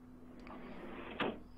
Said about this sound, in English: I heard the sound of closing doors